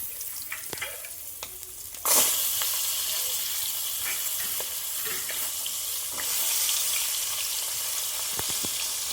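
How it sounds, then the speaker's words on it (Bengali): Prawns sizzle loudly in a hot pan for Bengali prawn malaikari, a steady close hiss that rises after a couple of seconds and holds, with occasional stirring clinks. "দেখো এগুলো এখন ফ্রাই হচ্ছে।"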